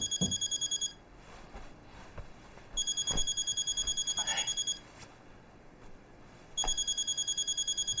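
A phone rings with an incoming call in three loud bursts separated by pauses, a steady electronic ringtone with soft background noise and no speech in between.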